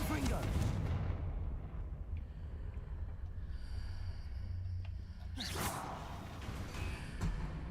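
Spells are cast in Hogwarts Legacy: booming magical blasts and whooshing bursts fire one after another, with a large explosive impact near the end, mixed under a player's voice.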